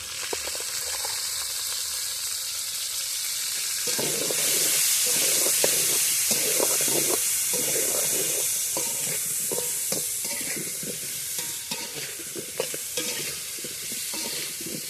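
Potatoes frying in oil for chicken kosha, a bright continuous sizzle and hiss with repeated scraping stirs of a spatula against the pan, close and steady.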